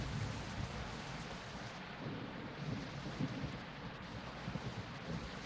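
Steady rain pours on a tropical island in the survival game Project Castaway, a dense, even hiss with low rumbles beneath, quiet and continuous with no voices.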